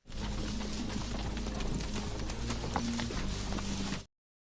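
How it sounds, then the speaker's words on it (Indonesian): Horse hooves clip-clop at a steady pace as a rider leaves, set under a dense, loud bed of background sound that runs for about four seconds and then cuts off abruptly. "Chow mengambil kuda milik Hun Chen dan langsung bergegas meninggalkan tempat itu."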